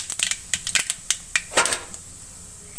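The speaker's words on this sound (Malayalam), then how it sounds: "കടുക് പൊട്ടി" Mustard seeds crackle in hot oil as sharp, irregular pops in quick clusters, loud and close, then thin out into scattered bursts with brief quiet gaps.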